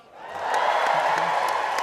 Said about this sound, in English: Don't clap, Simon, don't clap